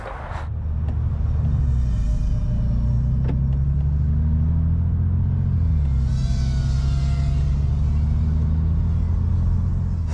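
Nissan Micra fitted with a big-block engine driving on a race track, a loud continuous low engine rumble with shifting tones throughout, steady and close.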